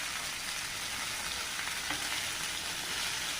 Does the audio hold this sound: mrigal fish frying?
yes